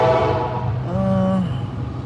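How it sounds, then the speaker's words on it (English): A passing train rumbles loudly and steadily through the whole stretch, with a sustained horn-like tone rising in the middle; heard from a car during a food delivery drive, with no talk. "give me a moment so the train can pass"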